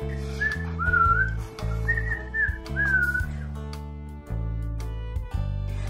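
Someone whistles a light, wavering tune over a steady musical backing, the whistled phrases coming in short melodic bursts.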